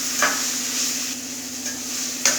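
A cluster bean stir-fry is stirred in a pan, giving a soft continuous sizzle with occasional scraping strokes of the spoon, close and alone.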